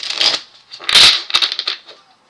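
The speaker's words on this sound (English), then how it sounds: "do more shuffles" Tarot cards are shuffled by hand, with several quick riffling bursts of papery flutter up close, the loudest in the middle, tapering off at the end.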